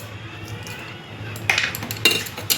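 A spoon stirs khichdi in a metal cooking pot, quiet at first and then several clinking scrapes against the pot's sides.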